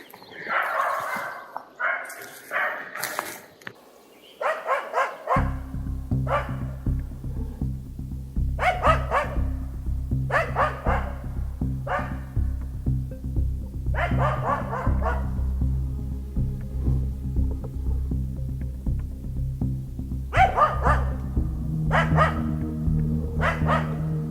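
Hunting dog in a forest barking at a capercaillie, sharp repeated barks in bursts with short pauses, fairly close and loud over a steady low hum.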